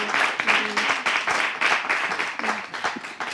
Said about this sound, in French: On va l'applaudir, s'il vous plaît.